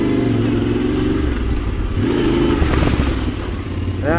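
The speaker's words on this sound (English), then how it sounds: "I love the exhaust note on this thing." A Yamaha Tenere 700 motorcycle with its stock exhaust rumbles steadily at close range on an ATV trail, holding a low, even engine note through the whole stretch with a slight rise near the end.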